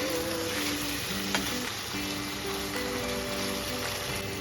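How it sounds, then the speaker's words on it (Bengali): Paneer pieces frying in hot oil in a pan, browning on both sides for a chana paneer curry, give a steady close sizzle with faint clinks, running continuously with no talk. "একটু লাল লাল করে দু পিঠ ভেজে দেবো।"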